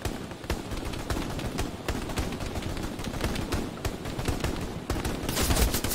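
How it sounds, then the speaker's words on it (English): Sustained machine gun covering fire in the video game Hell Let Loose, rapid loud bursts of shots running continuously over a dense battlefield din, swelling louder toward the end. "Running for the machine gun in 3. Who's ult? I'm counting on you on the covering fire."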